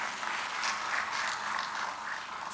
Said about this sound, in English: Please acknowledge him with a round of applause.